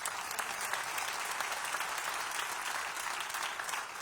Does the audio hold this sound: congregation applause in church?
yes